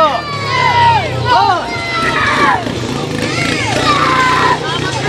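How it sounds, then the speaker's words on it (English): Hostile wrestling crowd at a CWE wrestling match, a loud, sustained roar of jeers, whistles and shouted voices that rises and falls throughout. "Oh, hostile crowd here."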